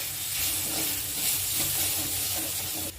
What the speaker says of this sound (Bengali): এবার এগুলোকে ভালো করে আমি একটু মিক্স করে নিই।